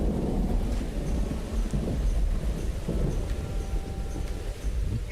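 Deep rolling thunder from the city-building video game Songs of Syx, a long low rumble over steady rain that swells and fades, fairly loud.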